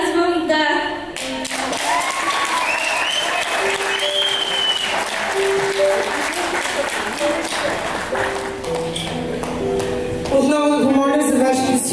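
Wedding guests at Armando and Mihaela's reception applaud steadily for several seconds, a dense wash of clapping mixed with music playing in the hall.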